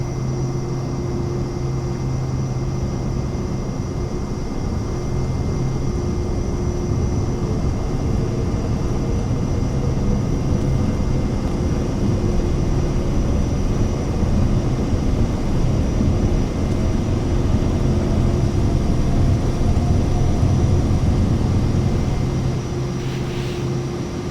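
A steady, loud propeller-plane engine drone with a constant tonal hum rolls on unbroken, the aircraft in Microsoft Flight Simulator 2024 powering down the runway for takeoff.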